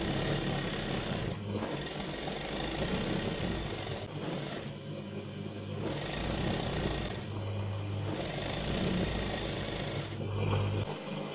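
A sewing machine runs steadily through a garment seam on a six-panel kameez, a continuous mechanical whir with brief pauses and restarts, fairly close and loud.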